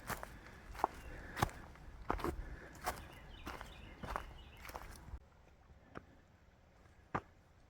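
Footsteps crunch on a trail at a steady walking pace, about one step per second, close and fairly quiet against soft outdoor ambience.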